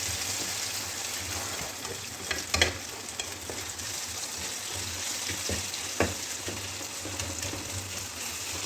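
Washed panjeeri ingredients cook in a pan over a low flame, a quiet steady hiss and sizzle with a few scraping stirs and light knocks, close and unaccompanied by voices.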